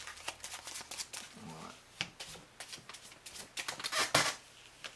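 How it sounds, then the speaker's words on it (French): A deck of playing cards is shuffled repeatedly at a magic trick demonstration, with a run of riffling, flicking card noise at close range and brief background voices. "Donc tu vas mélanger mon paquet, moi je vais mélanger ton paquet."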